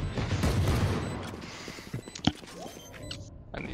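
Video game gunfire in Valorant, a dense burst of shots followed by scattered single cracks and one sharp report, mixed with game effects and mechanical clatter, fairly loud and close.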